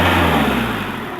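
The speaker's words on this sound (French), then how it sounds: "Donc là bah, on va démarrer le moteur." A Peugeot 206 with a 2-litre HDi diesel engine runs loud and close, a steady low rumble that eases slightly toward the end.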